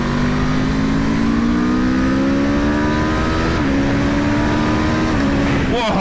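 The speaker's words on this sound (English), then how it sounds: "I was wondering what sort of exhaust noise you're going to get out of this new exhaust." A 2021 Aprilia RSV4 1100 Factory motorcycle fitted with a new exhaust revs hard, its engine note climbing in steady pitch steps close by, then a sharp change near the end.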